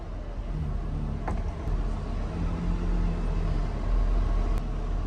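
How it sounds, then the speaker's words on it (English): A Porsche Carrera GT creeps backward up a slight hill as the clutch is let out slowly, giving a low, steady engine rumble with a faint idling hum and no talk. "Now we're on a slight hill and I gotta back the CGT up, so I'm just gonna let go of the clutch very slowly."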